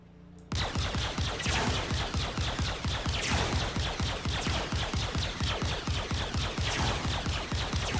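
Sustained rapid weapon fire from a spacecraft in the Star Citizen video game, a dense stream of evenly spaced shots that begins abruptly after a brief quiet moment and continues loudly and without pause to the end.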